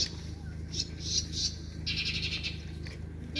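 Crows call in short bursts near the Yusupov Palace grounds in Yalta, Crimea, their harsh cries repeating over a steady low background hum.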